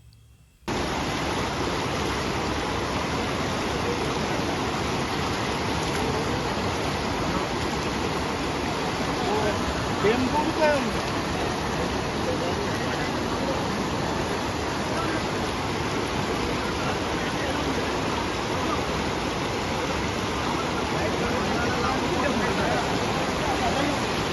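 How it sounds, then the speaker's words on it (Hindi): A monsoon waterfall pours down a mountainside in a constant, dense roar of rushing water that starts abruptly and holds loud and unbroken throughout. "बरसात के मौसम में पहाड़ से नीचे की ओर गिरता झरना बहुत ही मनमोहक लगता है।"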